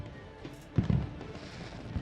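New Year's Eve fireworks over a crowd in North Korea, a muffled boom and crackle rising from a steady outdoor rumble, heard from a distance without talk.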